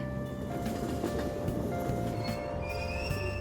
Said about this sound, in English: let's wait to ride the train.